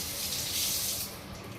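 Tomato masala water pours from a plate into a pan of stuffed eggplant curry (gutthi vankaya), a steady close splashing gush that swells midway and then eases off, with no voices.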